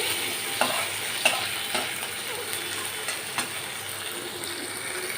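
Spice masala for taro stolons being sautéed in oil gives a steady, close hiss and sizzle, with periodic soft scrapes of a stirring spoon; no one talks.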